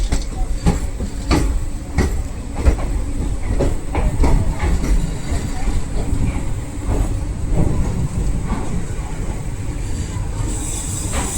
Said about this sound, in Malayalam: പ്ലാറ്റ്ഫോം നമ്പർ 3 ഏതോ ട്രെയിൻ കയറി വരുന്നുണ്ടെന്ന് തോന്നുന്നു